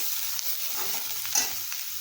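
Onion and grated coconut sautéing in a pan for chutney give a constant close hiss of frying, with faint stirring scrapes now and then and no voices.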